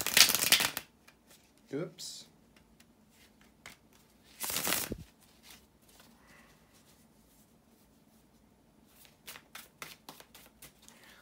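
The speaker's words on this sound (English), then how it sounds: "to shuffle the tarot cards" Tarot cards being shuffled by hand in riffling bursts at the start and again mid-clip, with softer rustles toward the end, close and fairly loud between brief spoken remarks.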